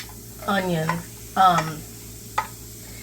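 A big chopped Vidalia onion hits a hot pan and is stirred in two loud scraping, sizzling bursts, followed by a few lighter clinks of the spoon against the pan.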